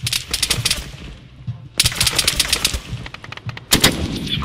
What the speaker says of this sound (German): wir kriegen Beschuss halt von hinten